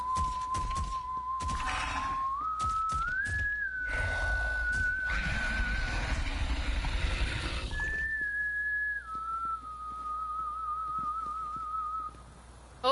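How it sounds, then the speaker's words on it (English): Someone whistles a slow, wavering tune in the video game Borderlands 3, steady sustained notes sliding up and down over rustling and low rumbling background noise, then continuing alone more clearly in a quieter stretch. "Someone was whistling."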